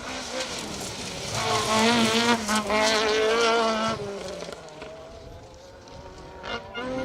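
A Ford Escort rally car races past on a gravel forest stage of the Carlisle Stages Rally, its engine note climbing and swooping through gear changes as the driver fights the sliding rear end, loud up close and then fading away.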